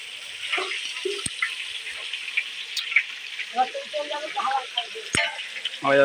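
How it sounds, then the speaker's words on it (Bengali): Fish frying in a pan with a big spatula, a steady sizzle under clattering and scraping stirring, with a voice talking partway through. "দেখো বন্ধুরা মাছ ভাজা করছে দেখো"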